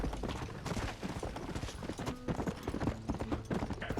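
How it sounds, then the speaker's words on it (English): Horse hooves clip-clop in the video game Red Dead Redemption, a steady quick rhythm of close, fairly quiet hoofbeats carrying on throughout with no talk over them. "we're getting on the horse"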